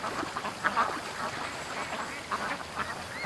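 Several domestic ducks quack in a busy, overlapping chorus at a creek in the early morning, with repeated calls rising and falling close by and no talking.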